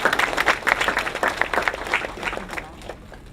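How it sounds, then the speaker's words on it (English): An audience claps for a business school dean at a welcome event, a dense burst of hand-clapping that stays steady and close, then thins out toward the end. "Get a round of applause for Dean Johnson."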